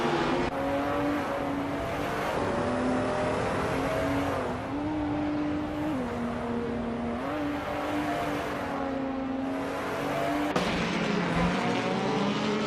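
A 2019 Ford Focus ST race car, a turbocharged hot hatch, drives hard on a track with a loud, sustained engine drone that rises and falls through gear changes, and a brief tire squeal can be heard.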